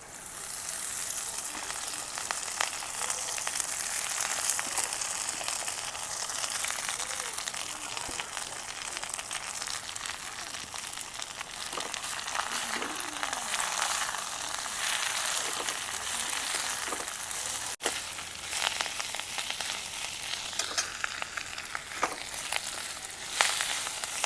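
Moringa leaves fry with garlic in a pan in a village kitchen, giving off a steady, fairly soft sizzling hiss that runs on unbroken, with occasional small crackles.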